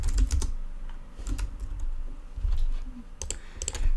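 Typing on a new computer keyboard: close, crisp key clicks in quick irregular bursts with brief pauses, no voices.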